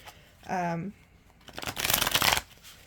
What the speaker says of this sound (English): Let me pull you a few sun cards